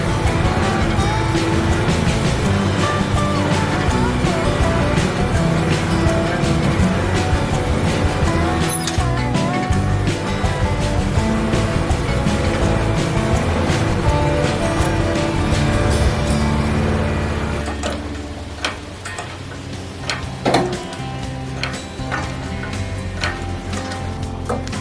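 A riding mower's engine runs steadily nearby as it is driven onto a Mo Jack 550 lift. The motor then drops away, and sharp mechanical clicks and knocks follow as the mower is jacked up.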